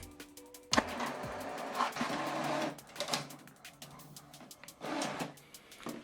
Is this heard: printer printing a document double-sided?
yes